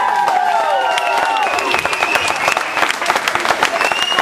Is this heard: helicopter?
no